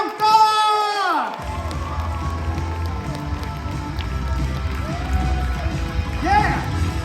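A comedy show audience cheers and whoops after a host's shouted call, the crowd noise rising into a steady, loud roar that carries on for several seconds with scattered voices inside it.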